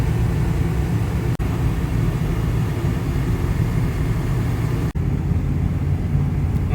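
A 1996 Chevy Suburban cruises down the road, giving a steady low engine and road rumble with two sharp brief clicks, with no talking.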